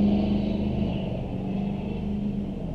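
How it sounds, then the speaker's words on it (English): A loud truck rumbles past outdoors, a low, heavy engine drone that stays strong and gradually eases as it moves by, with no talking over it. "That was a loud truck."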